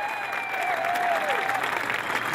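A large crowd at a Madison, Wisconsin Tea Party rally applauds, a steady wash of clapping with a cheering voice rising over it.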